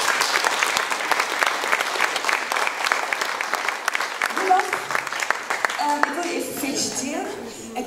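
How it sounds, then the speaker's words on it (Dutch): Audience applause at a festive neighbourhood opening with coffee and language activities, steady clapping from a crowd that fades out toward the end as voices and other sounds take over. "Dus ik wil even een groot applaus voor Rudolf."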